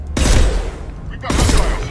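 Gunfire in the Mass Effect video game, two loud bursts of rapid shots separated by a short lull, close and forceful.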